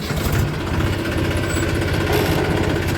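A tractor engine idles steadily on a farm, giving a continuous loud low chugging drone with a rattling vibration and no break in its rhythm.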